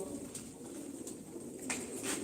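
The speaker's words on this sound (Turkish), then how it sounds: "Öz Sivas kuşları burada abi" Sivas breed pigeons, blue and blue-spotted, coo softly in a loft, with faint repeated calls over a steady low background murmur and no talk.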